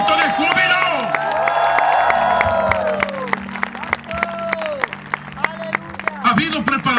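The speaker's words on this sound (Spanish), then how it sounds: "Dale fuerte el aplauso y un buen grito de júbilo." A church congregation at a miracle service claps and cheers with shouts of joy, voices whooping and crying out over scattered applause and sharp claps, loud and close.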